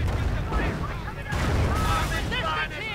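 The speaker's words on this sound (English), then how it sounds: "More Nebelwerfer fire to cover this advance, to cover the final push of Contador." Nebelwerfer rocket artillery fires in a World War II strategy game, heavy booms and whooshing launches rolling over one another for a few seconds, loud, with a voice talking over them.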